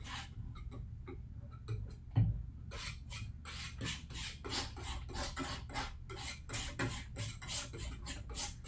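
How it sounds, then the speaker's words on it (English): A palette knife spreads and scrapes an oil ground, making close, repeated short rasping strokes in an uneven rhythm, dry and scratchy, one slightly heavier tap near the start, with no talking. "I'm trying to go back through and steal globs from other areas with the palette knife"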